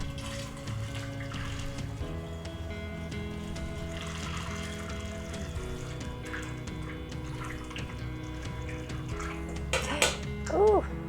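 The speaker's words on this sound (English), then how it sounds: "So I'm just gonna put my funnel here, and let's pour this as carefully as we can." Plant-based yogurt milk is poured through a funnel into a bottle, producing a continuous close liquid trickle with a steady background hum and a few small clinks near the end, no talking.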